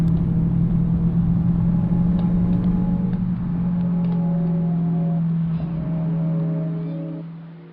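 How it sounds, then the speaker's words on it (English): A Dodge Challenger SRT Hellcat's supercharged engine drones loudly and steadily at speed, a deep sustained rumble that shifts pitch slightly as the car drives fast, with no talking over it. "the Hellcat was designed to only do one thing well: go fast in a straight line. And sound great doing it."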